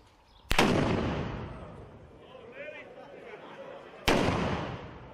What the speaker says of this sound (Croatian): Pucalo se kuburama povodom nekakvih svetaka ili nekakvih događaja